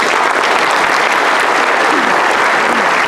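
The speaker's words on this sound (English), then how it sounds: "join me in one round of applause for all of our kings and queens" A crowd at a Mardi Gras coronation ball claps loudly and continuously, a dense, close wall of applause with no break.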